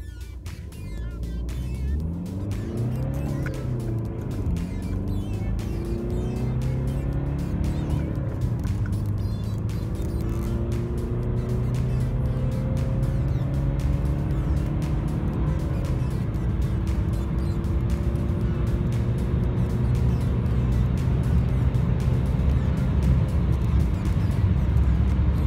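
A BMW E90 with a newly replaced clutch accelerates hard from a standstill, its engine note climbing through several rising sweeps as it shifts up, then settling into a steady, loud drone.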